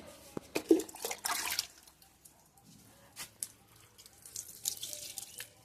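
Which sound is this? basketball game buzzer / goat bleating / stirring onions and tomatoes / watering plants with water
watering plants with water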